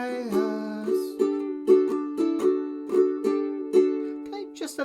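A ukulele picks out a bright, bouncy trumpet melody, each note struck crisply in a quick rhythmic phrase, played alone up close.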